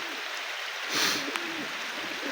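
Pigeons coo softly in low, wavering calls over a steady wash of falling rain, with a brief louder splash midway.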